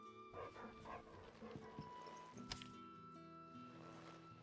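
A dog in a video game gives a few short yips and whimpers over soft game music and effects, close and fairly quiet.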